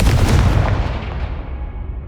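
A Confringo fire spell from the Hogwarts Legacy video game bursts with a loud, heavy blast up front that rumbles and decays away over the next two seconds.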